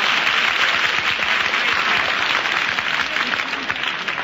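Studio audience applause on a 1954 radio game show, a dense, steady wash of clapping that holds at an even loudness for the whole stretch, with no voices heard above it.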